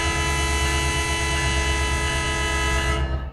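A train in a San Bernardino railway simulator game rumbles past loud and close as a steady dense roar with sustained tonal horn-like lines, cutting off abruptly near the end; no talk.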